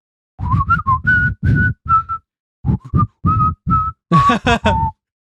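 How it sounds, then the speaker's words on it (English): A woman whistles a bright, bouncy tune while walking out of a store, a run of clean short notes in two phrases with a brief pause between, close and clear against silence. "when she goes, she whistles her way out of the store"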